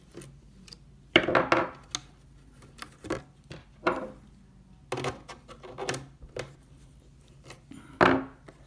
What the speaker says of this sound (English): Pop out a couple of screws here.